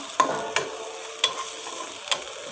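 Nuts frying in a pan for sheer khurma, a steady close sizzle broken by four sharp scraping stirs at uneven intervals.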